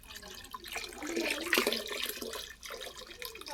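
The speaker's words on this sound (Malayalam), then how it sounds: "ഈ ഓസിൽ വെള്ളം വരും. ഈ ഓസിൽ നമ്മൾ പിടിച്ച് നിറച്ച് വെക്കണം എല്ലായിടത്തും." Water streams steadily from a hose into containers, a continuous splashing rush heard at moderate distance without talk.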